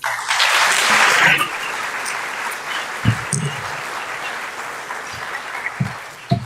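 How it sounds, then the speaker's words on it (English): Audience applause fills a community hall at a senior community awards night, loudest in the opening second or so and then settling into steady, thinner clapping with a few sharper nearby claps toward the end. "Please, a round of applause for everyone here."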